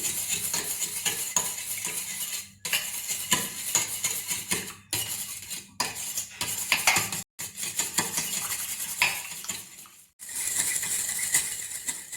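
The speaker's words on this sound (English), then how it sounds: "Add the milk and whisk it thoroughly." Whisking egg and milk in a bowl for a steamed egg and vegetable dish: rapid, steady clinking of a whisk or spoon against the bowl, running in close bursts with a few brief pauses, no voices.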